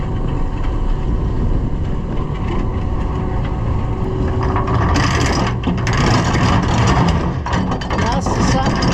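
A charter fishing boat out of Madeira Beach, Florida heads home on an overnight trip, its engine droning steadily under wind and water noise heard from the bow, with voices talking over it.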